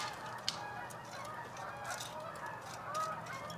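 Canada geese honking in a noisy outdoor scene, several calls overlapping at moderate distance against a steady background hum.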